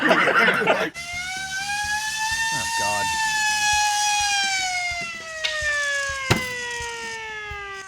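A loud, steady wailing alarm siren in the video game Teardown blares continuously, its pitch slowly sliding, while a voice briefly exclaims over it.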